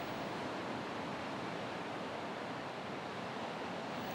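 Pacific Ocean surf pounds below the towering sea cliffs along Molokai's north coast, a dense, unbroken wash of breaking waves and wind that holds an even loudness throughout.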